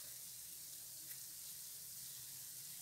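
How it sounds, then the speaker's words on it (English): Ghanaian bofrot doughnuts frying in hot oil, a steady, faint, continuous sizzle and hiss with no talking over it. "And we will fry till it's golden brown"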